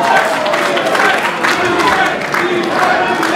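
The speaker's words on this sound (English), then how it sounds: "The crowd is loving every single second of this action, as we are too." A wrestling crowd at a live match cheers, shouts and claps in a loud, continuous roar, with a commentator's voice partly over it.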